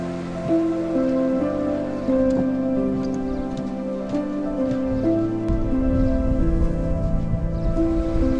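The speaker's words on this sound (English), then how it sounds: "Still moving along to the sound of the river." A river in the Pennines near Cauldron Snout rushes steadily in the background, a continuous broadband wash with faint crackle, while a walker moves along duck boards; no talk.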